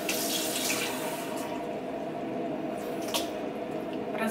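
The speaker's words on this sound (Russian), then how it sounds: "Разбавляю ее вот так вот чутка с водой." Water poured into a tablespoon of apple cider vinegar to dilute it, a soft, steady trickle and splash, fairly quiet and close, with a couple of small splashy accents and no talk.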